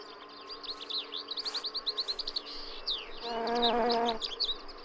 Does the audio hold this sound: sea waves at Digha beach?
no